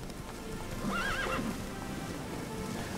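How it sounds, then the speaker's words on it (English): Horse in The Witcher 3: Wild Hunt giving a clear whinny over steady hoofbeats and a dense background of game ambience, with no talking. "Horse."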